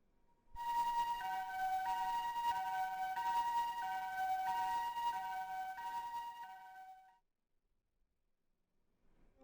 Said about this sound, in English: she heard the sound of ambulance sirens